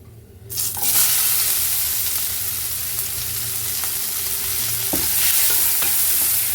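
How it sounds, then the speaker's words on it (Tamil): Steady sizzling of chopped shallots frying in a hot pan, with occasional stirring clicks and scrapes, continuous and close, no talking. "இது நல்லா இப்போது வதக்கிடலாம்"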